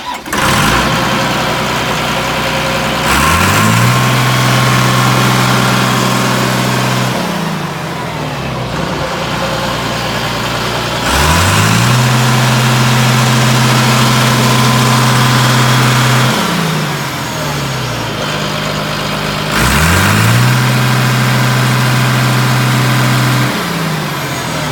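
The diesel engine of a Caterpillar D3C bulldozer runs loud and close, cycling repeatedly between idle and higher revs in long, steady surges with no talk.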